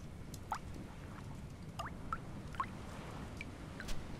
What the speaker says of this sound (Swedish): Hör ni droppljudet också?